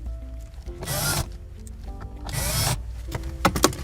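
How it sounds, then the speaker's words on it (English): Power drill bursts twice, each about half a second long, as screws go in during a GROM VLine VL2 stereo install in an Acura RDX cabin, with a few light clicks and handling noises between them. "So we're going to put these 4 screws in now."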